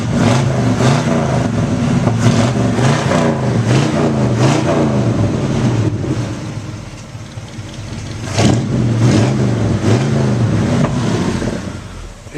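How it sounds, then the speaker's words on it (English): A 1965 Ford Galaxie engine is revved repeatedly, its loud, rough exhaust surging and dropping in several close, throaty bursts between idle stretches. "This thing kicks out some nasty exhaust"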